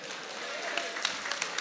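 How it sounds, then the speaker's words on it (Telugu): An audience at a public gathering applauds, a dense wash of clapping with a few sharper claps standing out, fairly close, with a voice faintly under it. "అందరూ గట్టిగా చప్పట్లు కొట్టండి"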